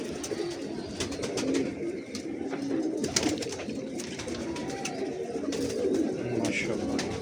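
Home-bred pigeons coo in a loft, a steady low murmur of several birds running throughout with faint higher chirps over it, close and fairly even in loudness.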